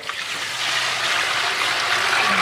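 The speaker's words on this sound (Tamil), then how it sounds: "ஸோ நம்ம வந்து 3 குண்டா தண்ணி ஊற்றிக்கலாம்." Water pouring steadily into large cooking pots while biryani is prepared in bulk for about ten kilos of rice, a continuous close rushing splash with no talk.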